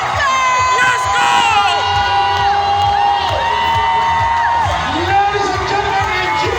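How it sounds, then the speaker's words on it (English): An audience at a motivational speaking event cheers and screams loudly and without a break, with many voices whooping in long rising and falling shrieks under an announcer's amplified voice. "Let me hear you scream for Mr. David."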